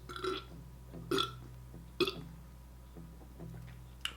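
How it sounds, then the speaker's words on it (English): Several loud, close burps after a sip of lime-flavoured light beer, with one big belch followed by a few smaller ones spaced across the moment. "but a big burp"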